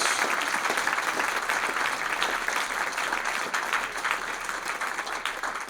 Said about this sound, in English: I think it's possibly worth putting a round of applause together for the staff that have organised this today